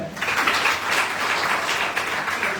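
A seminar audience at a network marketing business program breaks into dense, continuous applause, a steady wash of many hands clapping up close.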